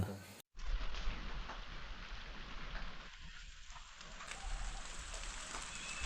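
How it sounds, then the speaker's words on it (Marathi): Steady early-morning rain falls with a dense, even hiss, broken by a brief dropout near the start, continuing throughout. "सकाळ सकाळ पाऊस यायला लागला"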